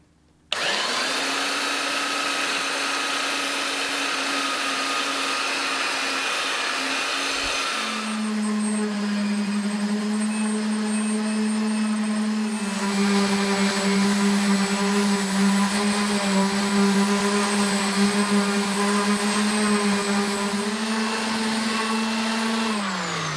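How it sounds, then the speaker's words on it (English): A belt sander whines steadily at close range on a homemade skateboard with resin inlay, its pitch dropping slightly as it bites into the surface, droning continuously without a break. "I'm just going to do that with my belt sander"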